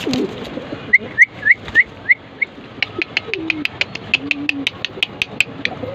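Big, light-coloured running racer pigeons coo softly and nearby, with low murmuring calls mixed in among a string of sharp, high chirps and clicks.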